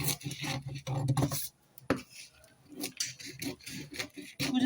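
Scissors snip through fabric while an Agbada Bubu neckline is cut out, giving a close run of crisp, irregular cuts with light rustling and handling noise between them.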